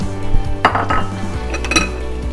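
Asparagus and artichokes go into a pan on the hob, with clanking and clinking of pan and utensils over a low hum and a soft background sizzle.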